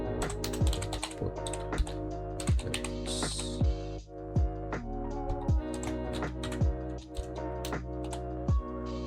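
Close, steady clacking of a computer keyboard as Java code is typed, quick irregular keystrokes with occasional louder taps and no talking.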